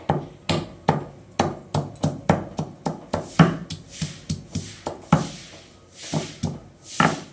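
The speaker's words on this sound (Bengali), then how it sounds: "এখন মা একটু মশলা বেটে নেবে।" Ginger and spices being ground on a traditional grinding stone, a steady run of sharp, close knocking and scraping strokes in an uneven rhythm, with softer rubbing toward the end and no talking.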